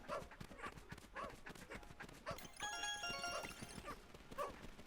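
A dog creature in the video game Pikmin 4 gives repeated short barks and yelps in rhythmic bursts over game sounds, faint and without talk.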